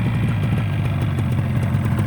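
Freshly rebuilt Yamaha RD200 two-stroke motorcycle engine running near and steady, a low throbbing idle with light mechanical clatter, revs rising slightly with no one talking.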